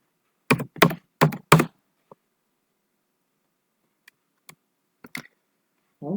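Keys on a computer keyboard are pressed to enter a code, a quick burst of four close, crisp clacks followed by a pause and then a few scattered, softer taps, all in a quiet room.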